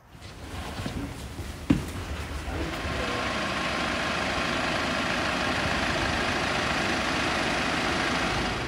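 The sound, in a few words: tractor engine running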